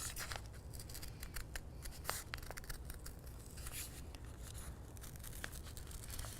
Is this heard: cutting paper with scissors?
yes